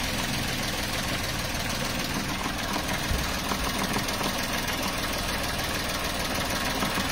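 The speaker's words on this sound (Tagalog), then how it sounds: "papakita ko sa inyo yung pag-automatic ng kanyang fan motor na dating hindi" Radiator fan motor on a Toyota Wigo with an overheating and wiring fault, a loud steady whirring drone running without a break alongside the idling engine, close up and alone.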